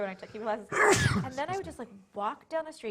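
A sneeze bursts out loudly in the middle of ongoing conversational speech, a single sharp broadband explosion lasting under a second before the talking resumes.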